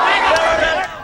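A protest crowd gathered outside the Woomera detention centre during a breakout by asylum seekers, heard as a loud, dense roar of shouting voices and babble filling a brief moment.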